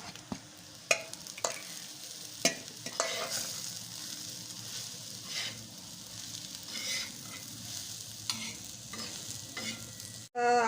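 Crushed green peas and onion with chili sauté in a pan for a Marathi pea chutney, a soft continuous sizzle broken by sharp scraping and clacking stirs, ending in a loud thump.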